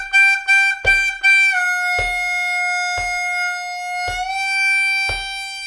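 Bb harmonica playing a lick: loud, clear repeated draw notes with bends, a quick burst of short notes followed by longer sustained tones, played alone.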